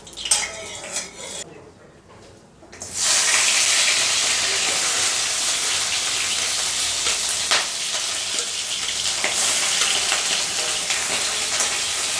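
After a brief quiet stretch, a loud steady sizzle of skewered prawns frying in hot mustard oil in a wok takes over and continues, with occasional scrapes and clinks of a utensil.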